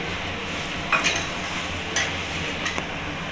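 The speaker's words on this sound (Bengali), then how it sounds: "টক দইটা দিয়ে ভালোভাবে নাড়াতে হবে নাহলে টক দইটা কেটে যেতে পারে এর জন্য এইভাবে নাড়িয়ে নিতে হবে ভালো করে" Yogurt being stirred into sizzling masala for a katla fish curry, a steady frying hiss with a few scraping stirs and light clinks of a spoon against the pan.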